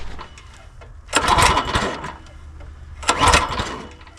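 A Craftsman log splitter's small engine is being started. Two loud, rasping bursts of cranking about two seconds apart stand out over a low background hum.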